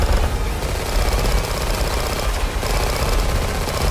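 Rapid automatic gunfire from a weapon with the trigger held down in a Roblox shooter game, a dense, continuous stream of loud, close shots with a very quick reload, filling the whole stretch without pause.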